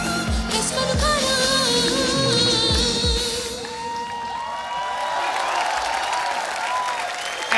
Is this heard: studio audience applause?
yes